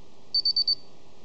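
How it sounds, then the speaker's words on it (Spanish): A Paradox SP 4000 alarm panel gives four short, evenly spaced high beeps in quick succession, clear and close in an otherwise quiet room. "Como ustedes ven, la alarma se activó y desactivamos con cualquiera de las otras claves."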